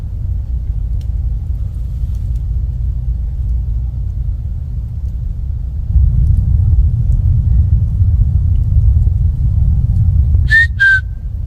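A short two-note whistle rings out near the end, sharp and distinct above a steady low rumble in a snowy forest at night.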